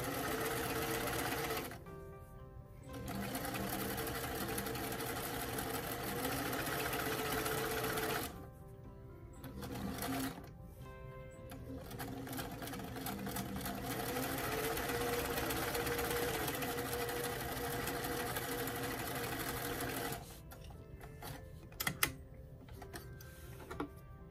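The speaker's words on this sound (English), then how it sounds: "when I do a gather stitch, I'm running it really close to the edge" A sewing machine runs a gather stitch close to the edge of doll clothes fabric, whirring steadily in long bursts with brief pauses between runs and a few small clicks near the end; no talking.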